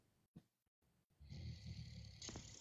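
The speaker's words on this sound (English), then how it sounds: "Do I hear snoring?" Someone snoring, a low rumbling drawn-out breath rising after a few short scattered noises, fairly faint and steady.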